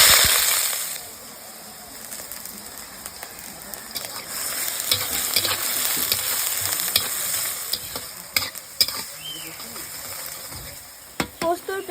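Chopped onion fries in hot oil with black cumin, a steady close sizzle broken by scraping stirs and sharp spatter pops toward the end, with no talk.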